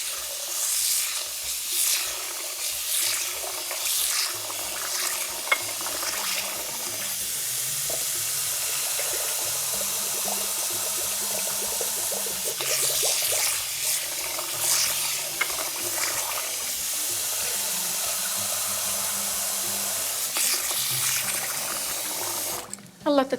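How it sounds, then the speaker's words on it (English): Cold water runs steadily over fine ground burghul while it is washed, a continuous close splashing hiss with occasional stirring, ending abruptly. "Wash it with cold water."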